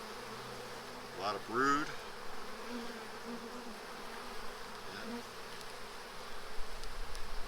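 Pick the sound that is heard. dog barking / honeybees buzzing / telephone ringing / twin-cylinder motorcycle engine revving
honeybees buzzing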